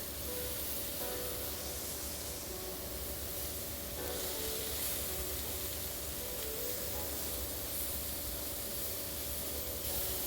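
Burger patties spitting and sizzling in hot grease in a pan, a steady dense crackling hiss heard up close and continuing without break.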